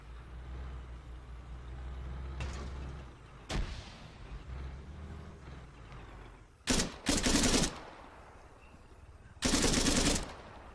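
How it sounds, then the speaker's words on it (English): Bursts of rapid gunfire in the video game Arma 3 ring out in short volleys, a couple of single shots followed by longer loud rattles over a low rumbling background. "Hearing some shots, not sure if it's enemy or not."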